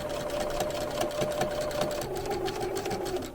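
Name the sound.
sewing machine stitching down chenille strips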